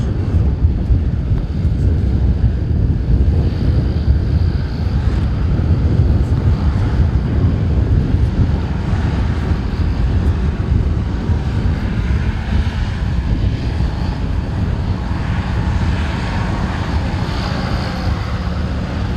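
Several racing hovercraft idle and rev at the start line of a national hovercraft race on a farm, a dense continuous engine roar with wind noise across the microphone, steady and loud throughout with no speech.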